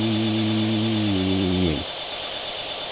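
Lufthansa A340 jet engines spooling in a flight simulator game, a loud steady multi-tone drone with strong broadband roar that winds down sharply near the end, leaving a quieter hiss.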